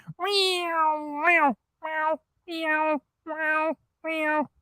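A loud, close cat meows as an alert sound for a Super Chat, one long drawn-out call followed by four shorter meows in an even rhythm, with nothing else heard.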